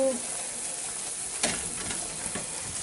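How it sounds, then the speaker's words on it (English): Flour being whisked into gravy in an iron pan while fried chicken gravy is made, giving a steady close sizzle with brief scraping strokes of the whisk. "Stir it around. You want it to brown to cook the flour."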